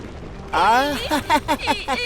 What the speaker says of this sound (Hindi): वो विस्फोट कर रहे हैं चट्टानों को तोड़ने के लिए।